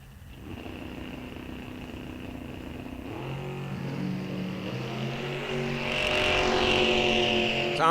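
Drag racing cars at a bracket series launch, one a Corvette Roadster; steady engine drone swells as revs climb and a second engine joins, growing loud and rough toward the end.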